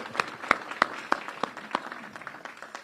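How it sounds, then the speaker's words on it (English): Applause at a ribbon-cutting event with the Illinois governor: a few sharp, evenly spaced claps ring out close by, then grow softer and thinner as the round winds down. "Let's give our governor, Speaker of the House, and Ms. Heidi a great round of applause"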